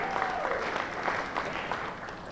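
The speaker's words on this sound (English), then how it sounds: "It might be best if you hold your applause to the end because there's a lot of names" Audience applause in a high school gymnasium or hall at a senior awards assembly, a dense, sustained wash of many hands clapping at fairly loud level, with no speech on top.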